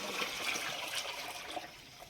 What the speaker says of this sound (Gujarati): એના માટે આપણે ઠંડુ પાણી નાખીએ